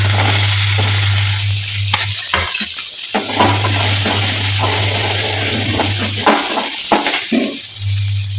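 Small onions sizzling in hot oil, a bright constant crackle, with a spoon clinking and scraping against the pan now and then and a low hum underneath.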